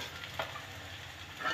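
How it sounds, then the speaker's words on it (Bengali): Taro pieces fry in oil in a pan, giving a soft, steady sizzle with faint bubbling and occasional louder crackles. "এইভাবে সবগুলোই ভাজতে হবে"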